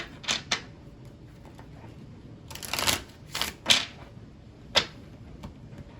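Lenormand cards being shuffled and drawn: a few quick riffling bursts and crisp flicks, some clustered and one standing alone, close by over a quiet room, with no voices.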